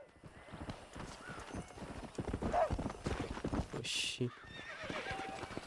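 A horse gallops with quick, close clip-clop hoofbeats in Red Dead Redemption 1, and a loud whinny cuts through midway; someone says a word or two over the hooves.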